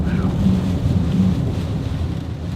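Wind buffets a parked car on a wet, windy day in Carding Mill Valley, Shropshire, a steady low roar and rumble filling the whole stretch, close and fairly loud with no clear talk.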